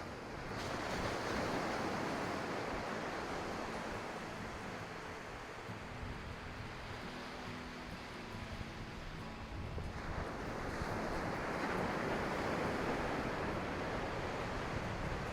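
Steady ocean surf on a Portuguese beach in January, a continuous wash of breaking waves with wind rumble across the microphone, loud and unbroken, swelling again toward the end, with no voices.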